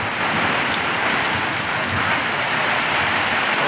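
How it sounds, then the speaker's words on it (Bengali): Heavy storm rain pours down in Raghunathpur Madhyapara, Phulbaria, Mymensingh, a dense, loud, unbroken roar of water hitting surfaces nearby. "প্রচুর বৃষ্টি হচ্ছে।"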